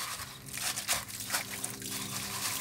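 Water trickles and splashes in short uneven pours onto damp sand, soft and close, with no talking.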